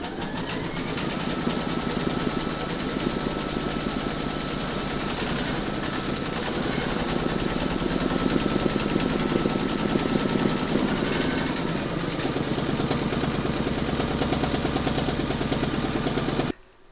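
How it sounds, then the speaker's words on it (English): An embroidery machine stitches a hooped fabric pennant with a steady, dense mechanical hum and rapid needle chatter that holds evenly and loudly for the whole stretch before stopping abruptly at the end. "Pop your hoop into your machine and stitch round number 5"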